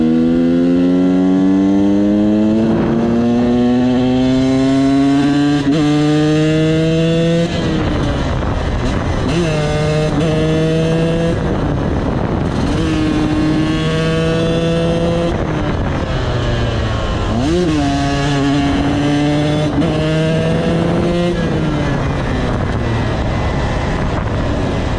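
Loud engine revving repeatedly to high rpm in rising sweeps, each pull climbing steeply before dropping back, with several bursts across the clip and no talk.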